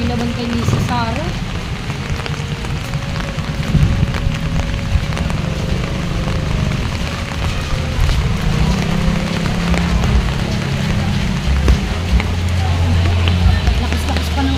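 Steady, dense rainfall hisses throughout, a heavy downpour with low rumbling underneath and occasional faint voices in the background.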